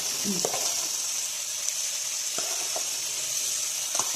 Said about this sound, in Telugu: పుదీనా, కొంచెం కరివేపాకు ఇలా ఫ్రై చేసుకోవాలండి